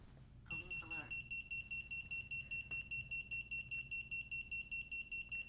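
A home security system sounds an alarm and police-alert tone: steady high electronic tones pulsing rapidly and continuously, fairly faint, after a brief voice at the start.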